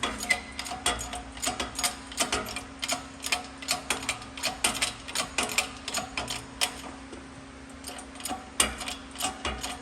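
Rapid, irregular mechanical clicks and ticks, fairly faint and close, as a wheel bearing is pressed into the hub of a Honda Civic Type R, with no talking.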